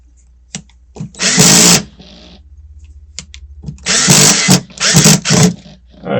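A power screwdriver runs in several short whirring bursts, separated by pauses and small clicks, driving Phillips head screws into a Crate PA amplifier during repair.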